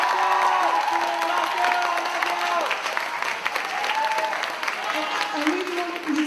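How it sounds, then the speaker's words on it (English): A large audience claps and cheers at a special evening performance event, a dense, loud wash of applause with whoops and voices rising over it, sustained throughout. "you can give them a round of applause,"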